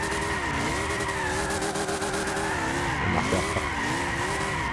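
A BMW drifting in Gran Turismo 6, its engine droning steadily as the tires squeal continuously through the slide, loud and close with wavering pitch as the car swings.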